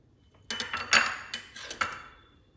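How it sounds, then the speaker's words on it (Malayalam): A knife halves a boiled egg on a plate, giving a few light metallic clinks and taps in quick succession, close and clear with no voices. "ആദ്യം നമുക്കൊരു എഗ്ഗ് എടുക്കാം എന്നിട്ട് അതിനെ രണ്ടായിട്ട് മുറിക്കാം"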